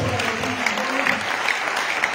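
Loud applause and clapping from a church congregation at a French-language worship service, a steady dense roar of hands with crowd noise and a voice speaking over it.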